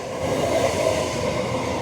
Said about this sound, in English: we actually have another train here